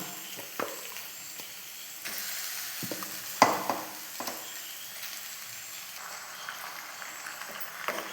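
Chicken pieces added to a pan of frying onions for chicken perattu, giving a soft steady sizzle with scattered scrapes and stirring clatters, one sharper clink midway.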